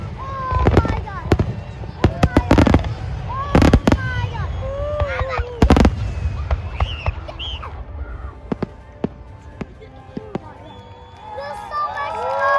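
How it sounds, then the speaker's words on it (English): Loud fireworks explode in sharp, booming bursts, several big cracks in the first half followed by scattered, fainter pops and crackles, with excited voices and crowd chatter underneath. "That's a really loud one."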